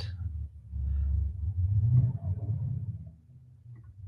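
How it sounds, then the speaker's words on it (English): A car passes outside with a deep, race-car-like rumble that swells and fades over a few seconds, muffled and moderately distant. "sounds like it should be a race car driving by"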